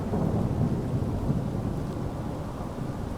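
Steady rain with rolling thunder fills a stormy scene in Microsoft Flight Simulator at an airport gate beside an A320neo airliner, a dense continuous wash of rumble and patter with no voices.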